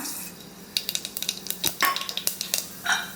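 Mustard seeds spluttering in hot coconut oil inside a pressure cooker, a close run of sharp crackling pops at irregular intervals above a faint sizzle.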